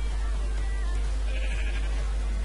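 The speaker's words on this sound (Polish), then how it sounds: "Mam nadzieję, że nie słyszycie tego głośno tych owiec." Minecraft sheep bleat in the game over a loud, constant low hum, the calls fairly steady across the stretch.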